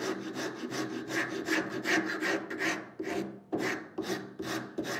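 A hand rasp files wood to shape the curved hollow of a wooden saw hanger, giving steady repeated rough scraping strokes in a brisk rhythm, close and fairly loud, with no talking.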